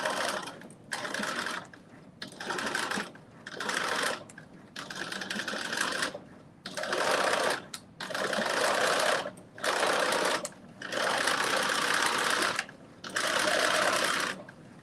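Home sewing machine running a seam row at half-inch allowance while sewing a Simplicity 9825 pattern, in repeated bursts of steady close whirring stitching separated by short pauses.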